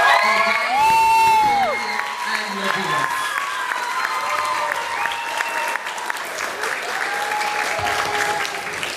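Audience at a school graduation ceremony applauds and cheers for parents and family, a loud sustained wash of clapping with whoops and shouts rising early, then steady clapping continuing throughout.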